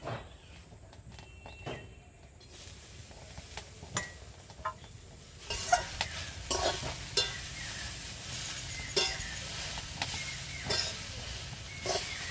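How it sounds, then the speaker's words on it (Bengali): Chopped pumpkin leaves dropped into a hot wok, where a quiet background gives way to sizzling and repeated scraping and knocking as they are stirred, in irregular bursts. "আগে থেকে কিছুটা কুমড়ো পাতা কেটে ধুয়ে রেখেছিলাম এইগুলো আমি কড়ার মধ্যে দিয়ে দেবো"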